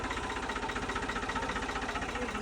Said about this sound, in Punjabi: ਟਰੈਕਟਰ ਵੀ ਆ ਗਿਆ ਮਿੱਤਰੋ